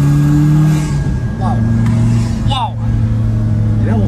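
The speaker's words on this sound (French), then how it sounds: "le bruit du turbo, c'est n'importe quoi" Carver One tilting three-wheeler with a turbo engine holds a strong, steady engine drone from close inside the vehicle, pitch dipping and rising as it accelerates, while people talk excitedly over it.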